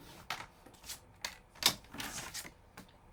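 A paper trimmer cutting paper for a scrapbook photo album, a few short dry slicing and rustling strokes up close, separated by brief quiet gaps.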